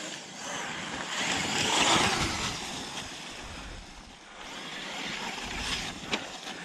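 A Mojave RC car drives and drifts across slippery ice outdoors, giving a sustained whirring, hissing rush that swells and fades as it slides, with no voices.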